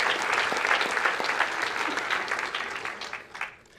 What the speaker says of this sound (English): Can we have a round of applause for all those people who achieved their ratings